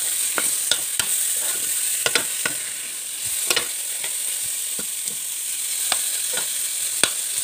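Pork frying in a pan, a steady bright sizzle with repeated scraping clicks of a utensil stirring it, close and continuous with no talking.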